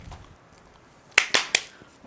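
A quick burst of three sharp hand claps, close and fairly loud, following near silence.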